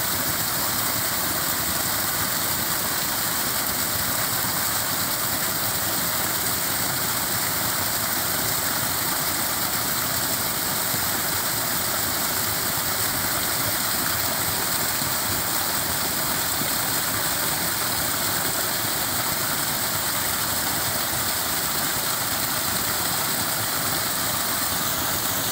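A stream at an off-grid solar homestead rushes steadily and loudly in a dense, unbroken hiss of flowing water, close by and unchanging throughout, with no voices.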